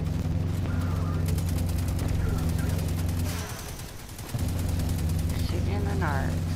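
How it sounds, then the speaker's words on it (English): Rapid bursts of gunfire from the video game Destiny 2 rattle steadily over a droning low hum, dropping out briefly midway before resuming, with faint chirping effects near the end. "Oh, he's shooting me."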